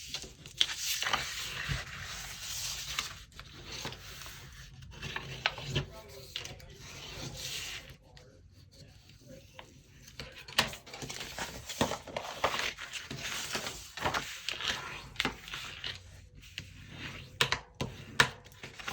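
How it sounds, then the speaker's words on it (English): Folded paper for a handmade birthday-themed mini album being burnished, giving repeated dry rubbing and scraping strokes, close and fairly quiet, in irregular bursts across the clip. "fold them and burnish."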